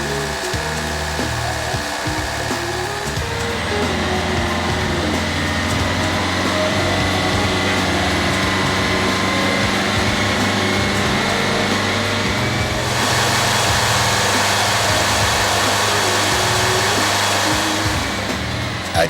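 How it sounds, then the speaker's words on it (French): A hot Peugeot DV4TD diesel engine idles steadily, a loud, even mechanical drone with a constant hum that holds through the whole stretch, heard close with no voices. "Moteur tournant et chaud."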